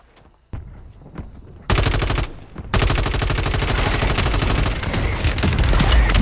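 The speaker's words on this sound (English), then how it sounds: "Somebody's definitely shooting at him" Call of Duty Warzone gunfire: a few distant single shots, then sustained loud automatic bursts of rapid, evenly spaced cracks running almost without pause to the end.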